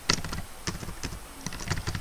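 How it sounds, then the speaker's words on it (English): Close fingers tap out quick, uneven clicks on a computer keyboard, a rapid patter of keystrokes with small pauses and no speech. "So I will type here"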